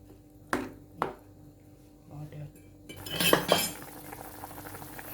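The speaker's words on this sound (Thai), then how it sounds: "ใส่เครื่องกะปิที่เราได้ตำไว้ลงไปเลยครับ คนทุกอย่างละลายให้เข้ากันเบาๆให้หมดเลยครับ" A utensil stirs pounded shrimp paste curry paste in a pot, giving a couple of sharp metal clinks followed by soft scraping and stirring close by.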